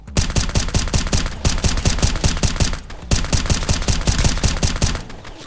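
Automatic gunfire from a Glock with a drum magazine in a video game rattles in two long, loud, rapid bursts separated by a brief pause, each a dense string of sharp shots.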